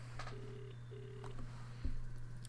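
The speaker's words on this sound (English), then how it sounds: "With my finger shaking, I dial the phone number off of the back of the DV case I found yesterday" A phone number is dialed in the video game Let's Meat Adam 2, with short keypad tones sounding over a steady electrical hum, quiet and with no talking.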